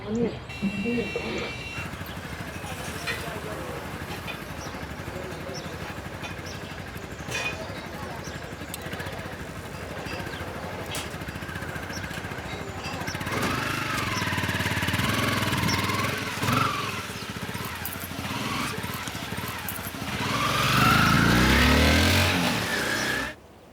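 A vehicle engine drones steadily throughout a driving lesson and grows louder and rougher toward the end, with a person talking over it much of the time.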